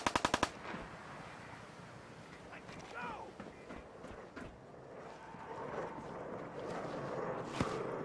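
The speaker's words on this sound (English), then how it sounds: "Who did the machine gun?" Machine gun fire in Fallout 4, opening with a rapid burst of close, loud shots followed by scattered gunfire and combat noise over a steady background.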